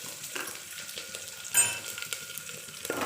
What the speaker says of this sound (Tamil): அடுத்தது வெங்காயம் போட்டுக்கலாம்.